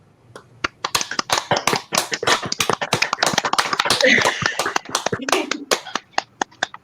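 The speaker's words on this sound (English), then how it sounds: "Clap your hands and say hey to Lady Raven" Handful of people clapping during a virtual comedy show, sparse separate claps in an uneven rhythm, close and fairly loud, with a brief burst of voices midway.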